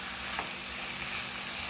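Upperi, a Kerala vegetable stir-fry, sizzles steadily in a pan with one faint clink, and nobody talks.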